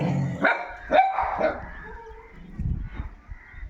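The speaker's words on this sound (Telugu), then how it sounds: "ఇది చిన్న పిల్లైనా కూడా తరిమి తరిమి అరుస్తుంది వాటిని" A small street dog barking in three quick, loud, close barks, followed by lower growling and rumbling noise with faint background sound.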